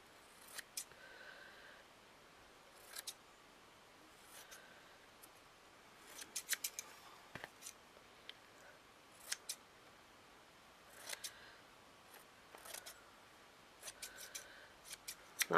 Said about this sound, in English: I'm going to just cut the edges, trim it off so it's a bit neat